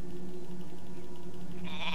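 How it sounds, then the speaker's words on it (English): Sheep bleating from a unit clicked in the real-time strategy game Warcraft III: Reign of Chaos, a short game sound effect over a steady droning background, with a brighter bleat near the end. "this is what happens when you click a sheep on time"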